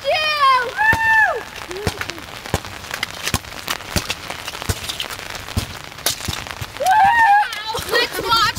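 Rain falls in a pouring outdoor downpour, a steady patter broken by sharp drips and splashes, while children's excited voices rise loudly at the start and end.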